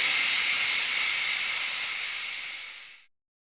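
A Ninja Foodi pressure cooker vents steam in a loud, continuous high hiss that slowly weakens, then cuts off abruptly just after three seconds.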